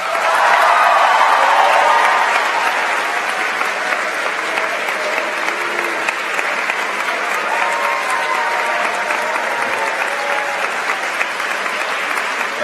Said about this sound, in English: please stand to be recognized with our applause